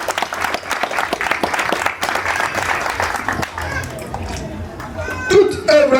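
Audience applause at an association's second-anniversary gathering, dense clapping for several seconds with crowd noise and children's voices, fading toward the end as voices rise.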